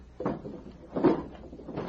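A table drawer slides open in a quiet room, with a couple of soft wooden scraping and thudding movements spread across a short moment.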